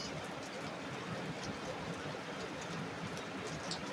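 Rain keeps up a soft, continuous hiss outdoors, fairly faint and even throughout, with no voices or distinct drop impacts.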